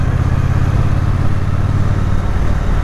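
A Triumph Bonneville T120 motorcycle pulls in sixth gear under throttle around 3,000 RPM, a loud, close, steady low engine rumble with no talk.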